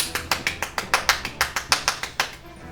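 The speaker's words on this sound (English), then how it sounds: "You're clapping for the goal." Hand clapping for a goal, about fifteen quick even claps close by in a steady rhythm, then fading out.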